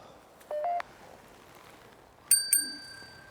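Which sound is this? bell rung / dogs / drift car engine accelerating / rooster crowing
bell rung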